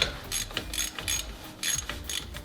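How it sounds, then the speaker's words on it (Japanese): A ratchet wrench clicks in quick bursts as it turns a bolt near the compressor and tensioner pulley of a Suzuki Every DA64V engine, close and fairly loud, with no talking. "あと一度緩んだら、もうラチェットで回しても大丈夫かなと思います。"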